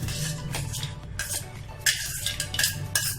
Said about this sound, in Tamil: நல்லா கட்டி இல்லாமல் கிண்டிக்கங்க